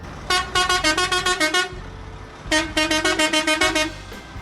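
A loud, tonal Peterbilt truck air horn blasts in a rapid series of short toots, pauses briefly, then repeats another quick burst of honks, close by.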